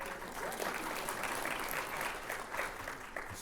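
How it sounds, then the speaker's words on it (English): A Comic Con panel audience applauds as a film designer is introduced, a continuous wash of crowd clapping that stays steady throughout with no voices standing out. "Scott has already broken the applause rule."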